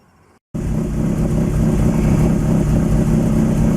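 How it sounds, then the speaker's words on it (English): A Lotus Excel engine catching after a brief silence and settling into a loud, steady idle, heard close with a constant low rumble. "I think I'll try and give it a turn over now, just to see if it'll start"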